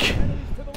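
A single heavy, booming burst of gunfire from the Call of Duty: Advanced Warfare campaign during a Seattle street fight, short and loud with a low, thudding body.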